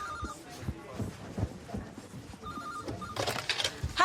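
A telephone rings in short repeated trills amid shuffling and rustling handling noise, with voices murmuring nearby.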